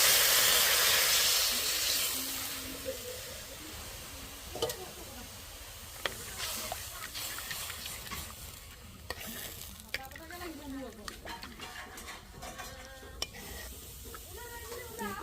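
Small-fish curry with skunkvine juice, garlic and potato bubbles and splutters in oil in a wok: a loud hissing sizzle at first that settles into softer crackling, broken by frequent utensil clinks and scrapes.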